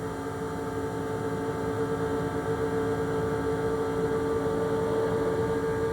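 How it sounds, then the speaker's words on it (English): NASCAR stock car engines at the 1999 Winston 500 drone in a steady, sustained high whine at nearly constant pitch, a dense continuous race-track roar without voices. "If you don't hear those engine noises change very much because they keep that right foot planted on the floorboard."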